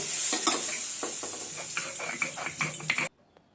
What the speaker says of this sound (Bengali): আমি এখন মাছের কাঁটাটা দিয়ে দিচ্ছি।